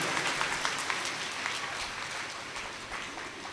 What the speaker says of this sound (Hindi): जोरदार तालियों से इनका स्वागत कीजिएगा।